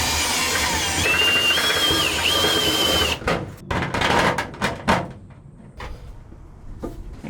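Step drill bit boring a hole in a 32ft gooseneck enclosed car trailer, a loud whining drill motor with rising metallic squeal for about three seconds, then clunks and knocks as the tool stops.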